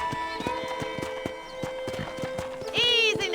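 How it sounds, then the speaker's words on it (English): A horse in the Red Dead Redemption video game clops along in a steady, even hoof rhythm, close and clear over a soft musical bed, then lets out a loud, rising whinny near the end. "let's see if you can still ride a horse"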